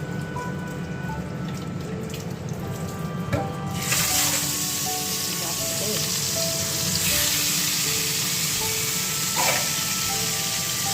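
Frying in a pan in a home kitchen, a steady hiss that jumps to a louder, brighter sizzle partway through as food hits the oil, with faint clinks and a few sharp spatters, no talk.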